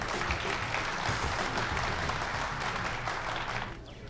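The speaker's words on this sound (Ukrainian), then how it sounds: "Ваші оплески!" Audience applause after a prize-winning performer is introduced on stage in a comedy series, steady dense clapping that fills the space and tapers slightly at the end.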